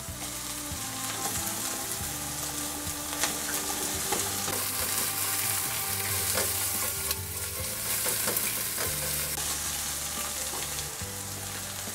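Tomato hits translucent onions frying in a pan for chipotle devilled chicken, keeping up a steady close sizzle with occasional stirring scrapes throughout.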